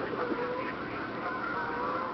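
A mallard duck calls amid dense outdoor wetland ambience, faint nasal calls blending into a constant wash of background noise with no clear separate quacks.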